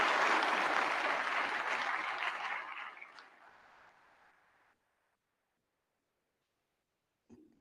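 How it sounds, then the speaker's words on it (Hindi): A large audience of lawyers at an international lawyers conference applauds to welcome a speaker, loud and dense at first, then thinning and fading over several seconds into silence, with a brief noise at the end. "I'll request the lawyers, Indian lawyers, to give a big hand"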